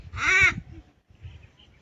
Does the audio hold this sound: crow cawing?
yes